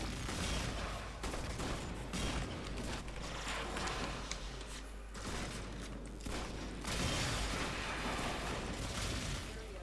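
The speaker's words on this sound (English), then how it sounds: "I also fire in little bursts, exactly to keep my ammo at check." In Warframe, Mag Prime fires weapons in short, rapid bursts during a tier-3 mobile defense mission, with dense, loud gunfire broken by brief pauses and mechanical clatter.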